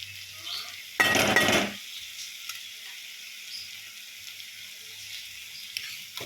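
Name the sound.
boiled soya chunks (meal maker) added to simmering curry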